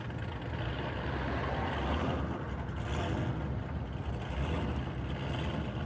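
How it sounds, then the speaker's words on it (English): Loud, continuous engine and exhaust rumble from a car with a Corvette engine driving just ahead in traffic, heard from inside a following vehicle as a steady low drone with road noise and no talk. "That's the car in front of me that's got that exhaust. He's got some kind of Corvette engine in that."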